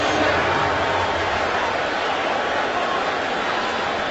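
Stadium crowd noise at a 2013 Chargers at Eagles NFL football game: a steady, dense roar of thousands of fans that holds throughout, with voices faintly mixed in.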